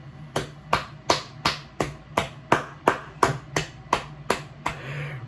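A single pair of hands claps about a dozen times in a steady, evenly spaced rhythm, sharp and close, the last clap trailing into a softer rustle.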